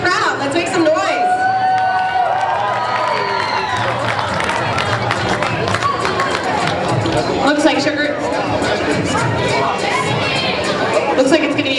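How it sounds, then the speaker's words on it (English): A crowd cheers and chatters at a roller derby bout on a banked track. The noise is loud and continuous with shouts and applause, and an announcer's voice is mixed in. "Let's hear it for the crowd. Let's make some noise."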